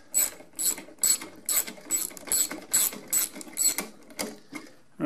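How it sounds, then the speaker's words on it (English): Ratchet wrench with a 7/16 socket snugging self-tapping screws while mounting a belt-drive garage door opener, a close series of quick rhythmic clicking bursts, about ten strokes, with no talk. "this is a 7/16 socket I'm using"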